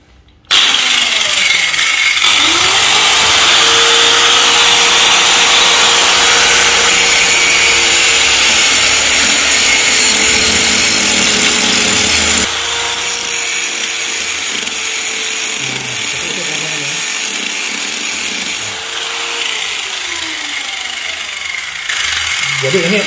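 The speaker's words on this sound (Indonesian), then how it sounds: "Oke, kita lakukan proses penggerindaannya seperti ini." An angle grinder works steel while making a bicycle cone wrench, a loud continuous high whine that holds steady for long stretches, dips and shifts pitch as the disc bites, then cuts off near the end.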